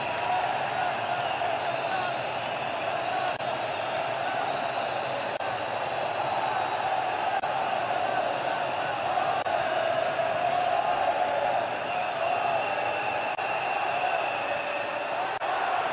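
A stadium crowd at a Kenya vs Morocco African Nations Championship football match keeps up a steady, distant roar and murmur throughout, even and unbroken, with a commentator's voice heard over it.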